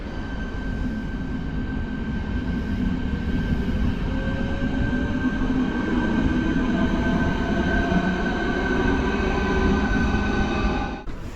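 A passenger train travelling toward Prague rumbles steadily from inside the carriage, a loud continuous roar of wheels on rails with a faint whine, no voices.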